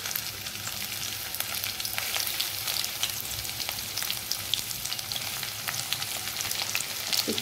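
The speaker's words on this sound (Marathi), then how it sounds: "तेल आपलं गरम झालेलं आहे, याच्यामध्ये लसूण आणि आलं टाकून घेते।" Garlic and ginger fry in hot oil for a paneer chilli, giving a steady, close crackling sizzle with scattered sharp pops throughout, no voices.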